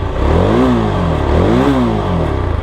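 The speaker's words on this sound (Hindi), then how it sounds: "अगर मैं इसका स्टैंड निकाल के इसका थ्रोटल पुल करता हूं तो साउंड जो रहेगा वो मुझे एकदम से सही से आएगा, मतलब बाइक आराम से रेव करेगी" A Yezdi Scrambler motorcycle engine is revved while the bike sits on its stand. Two rising and falling throttle blips sit over a rough, steady idle, loud and close.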